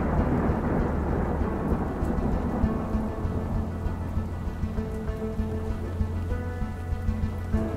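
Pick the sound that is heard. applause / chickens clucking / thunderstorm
thunderstorm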